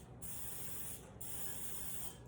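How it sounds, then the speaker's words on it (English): A hand spritzer bottle sprays water in two quick hissing bursts, each a close, steady spray with a brief click between them. "And just give it a spray."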